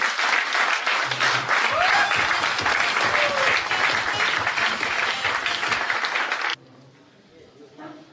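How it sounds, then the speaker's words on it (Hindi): Audience applause at a Hindi motivational talk, loud, dense clapping that runs for several seconds before cutting off abruptly into a quieter room with faint sound. "एक बार जोरदार ताली हो जाए सुदेश जी के लिए।"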